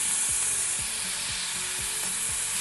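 Green chillies fry and get stirred in a hot pan, with a steady oily sizzle throughout and regular scraping strokes of the spoon roughly every half second, close and continuous.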